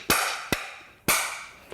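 Three sharp metallic taps from a hammer striking a nut on a 1960 BSA Bantam D7 motorcycle, spaced unevenly with ringing decay after each, then a faint fourth tick.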